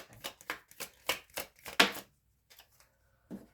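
Tarot cards are shuffled close up in quick riffling bursts and flicks, then a pause and a couple of softer card taps.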